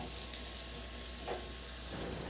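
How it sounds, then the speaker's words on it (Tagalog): Garlic sautéing in a hot dry pan with no added oil: a soft, steady sizzle at low volume with a brief utensil scrape, no voices. "Igisa ko na rin yung bawang."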